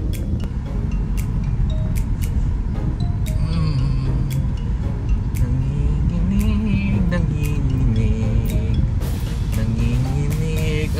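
An automatic Toyota Vios drives with a constant low rumbling cabin drone and scattered clicks and rattles, while people talk over it throughout.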